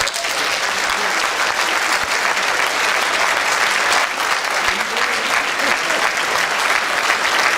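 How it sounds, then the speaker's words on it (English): An audience at a Drayton Valley community speakers' event gives sustained applause, a dense, even roar of many hands clapping at close range that carries on for several seconds without letting up. "you can stand to give him a round of applause"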